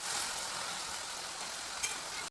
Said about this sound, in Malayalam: കശുവണ്ടിയൊക്കെ വറുക്കാൻ പോവാണ്. ആദ്യം തന്നെ അതിന് വേണ്ടി നെയ്യ് ഇട്ടിട്ടുണ്ട്, പിന്നെ കുറച്ച് എണ്ണ ഒഴിച്ചിട്ടുണ്ട്